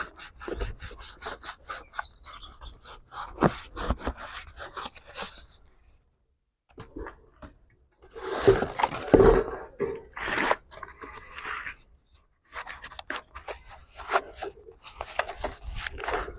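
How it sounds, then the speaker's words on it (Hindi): Cardboard is loosely rolled up by hand to feed a beekeeping smoker, giving close, dry rustling and rubbing scrapes in uneven bursts with a few quiet pauses. "इस गत्ते को हमने रोल करना है"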